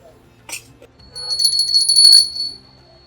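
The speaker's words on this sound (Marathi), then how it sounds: "घंटा वेगवेगळ्या प्रकारच्या वेगवेगळ्या साईजच्या किती सुंदर" A brass bell at a brass and copper utensil market rings once after a couple of light knocks, its clear, high metallic tone shimmering for about a second before fading.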